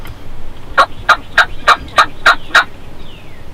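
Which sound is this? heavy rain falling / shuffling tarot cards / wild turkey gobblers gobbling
wild turkey gobblers gobbling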